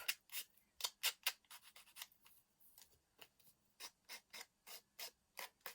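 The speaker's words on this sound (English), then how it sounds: "even in cutters like this sometimes you still need to do a little bit of sanding and cleanup" Quick, dry scraping strokes of an emery board sanding the edge of a recycled greeting-card tag repeat in bursts with a rhythmic back-and-forth, close and fairly quiet, like a file rasping a small edge.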